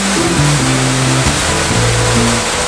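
A waterfall at the Chasm in New Zealand's South Island pours over and through water-sculpted rock, making a steady, loud, close rush that fills the whole clip with a low rumble underneath.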